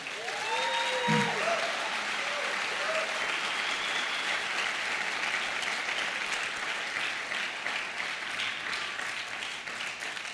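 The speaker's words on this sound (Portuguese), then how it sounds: "Você pode aplaudir Jesus na vida deles?" Church congregation applauding during a sermon, a broad continuous wash of clapping held for about ten seconds, with a few brief vocal sounds near the start.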